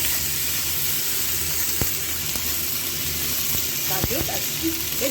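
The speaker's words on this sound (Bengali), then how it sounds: "এবার সব সবজি কাটাগুলো দিয়ে দেবো।" Chopped winter vegetables tip into hot oil seasoned with white cumin, setting off a steady, close sizzle with a few sharp clatters and scrapes near the end.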